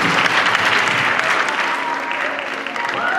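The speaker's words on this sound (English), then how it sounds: "Let's give them another round of applause, ladies and gentlemen" Crowd applause at a cosplay contest, a thick, continuous roar of clapping that holds steady, with faint voices beneath.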